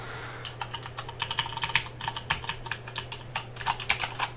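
Steady rapid typing on a Corsair K70 RGB mechanical keyboard with Cherry MX Red switches, a close, continuous patter of soft clacks without clicks, heard alone with a faint low hum underneath.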